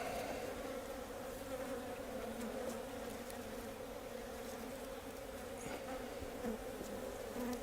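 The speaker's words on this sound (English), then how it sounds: "There's a lot of bees in there." Honey bees in an open hive during a swarm-control check, a dense, steady buzzing hum filling the whole stretch close to the microphone, with no talk over it.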